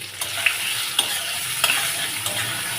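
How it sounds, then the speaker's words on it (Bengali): Onion and ginger sautéing in a pan, a steady close sizzle broken by regular scraping stirs of a spatula about every half second, with no voices. "ভালো করে এবারে আমি কষতে থাকবো।"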